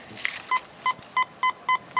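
Metal detector sweeping over a buried coin in a yard: a clear electronic tone pulses six times in a steady rhythm, each beep short and crisp against a quiet outdoor background.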